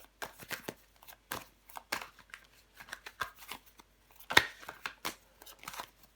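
Tarot cards handled at close range during a reading, with a string of quick, soft papery shuffles and flicks and one sharper snap of a card near the middle, no voice over it.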